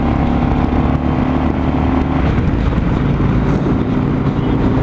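A 2017 Harley-Davidson Low Rider motorcycle engine on a test ride, a loud steady V-twin drone with wind rush throughout, the pitch shifting slightly as gears change.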